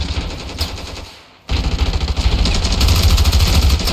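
Loud, sustained bursts of rapid automatic gunfire in the video game Ravenfield, with a brief lull in the middle, then dense continuous shooting in an urban firefight.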